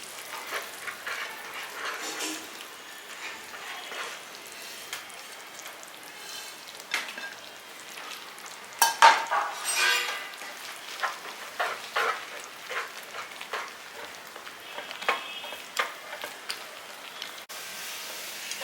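A sweet mixture bubbles and spits softly in a pan as ground powder is added. The sound is faint, irregular popping and sputtering with a few louder spits midway, close by, and no one speaks.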